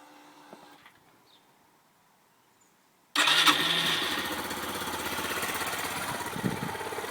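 A Yamaha YBR 125 motorcycle engine fires up abruptly after an oil change, then settles into a steady, close, loud idle that runs on.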